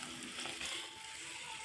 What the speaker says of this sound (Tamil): இப்போ மட்டன் தண்ணி இதில் சேர்க்க போகிறோங்க.